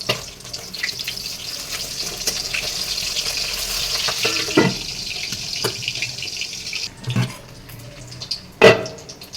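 Fish frying in a wide kadai gives a steady, bright sizzle and crackle throughout, with a few sharper clatters near the end from stirring or handling the pan. No one speaks.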